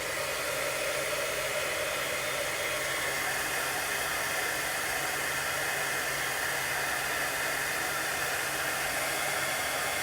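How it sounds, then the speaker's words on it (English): Heat gun blowing hot air to melt white embossing powder on paper, a steady, loud, close whooshing hiss that runs unbroken throughout with no talking. "my heat gun's getting warm. I'm going to melt that plastic back onto the paper to give it that shiny look"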